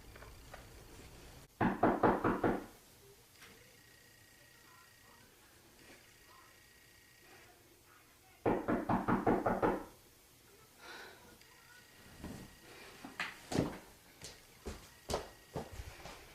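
Knocking on a door in a quiet short-film drama scene comes in two separate bursts of rapid, firm raps a few seconds apart, followed by lighter scattered thumps and movement.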